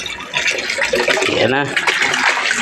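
A splashing gush as a batch of freshly caught red tilapia is poured into water, loud and close, while someone briefly speaks over the splash.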